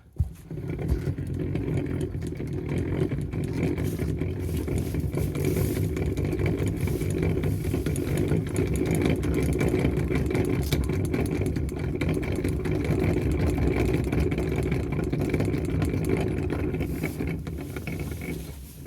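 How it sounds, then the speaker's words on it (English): A winch hauls in cable to drag a fallen log on a hillside, with a steady mechanical drone and ratcheting clatter running close and unbroken for the whole stretch, with no one speaking. "we run the cable out underneath the log, back over the top, and then we just winch it in"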